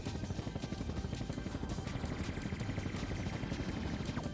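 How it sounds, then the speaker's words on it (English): Rotor chop of a helicopter in a video game training simulator, a steady rapid thudding beat with a mid-pitched engine whine, continuous and moderately loud throughout. "This is a real helicopter training simulator."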